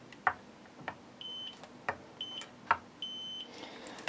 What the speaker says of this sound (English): so you can hear it beeping that there is continuity